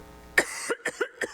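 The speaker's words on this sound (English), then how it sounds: "I'm about to have a coughing fit" Someone at a city council meeting coughs in a quick run of four or five close, sharp bursts, moderately near the microphone, against a quiet room.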